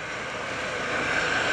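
Hackensack UMC EC135 medevac helicopter at the Greenwood Lake airshow, a steady broadband rotor and turbine roar that holds constant and grows slightly louder toward the end, with no talk.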